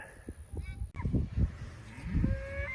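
A bull moos loudly in a low, drawn-out call, with a second bellow following after a brief pause amid outdoor pasture background noise.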